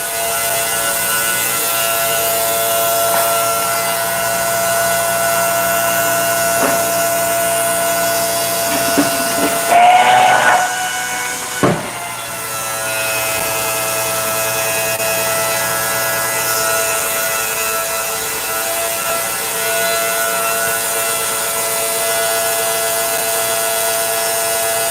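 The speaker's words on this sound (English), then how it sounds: "I was hoping that I wouldn't be overpowered by the water pump." Aquarium water pump running during water changes, a constant steady hum with a brief rubbing, scraping disturbance midway.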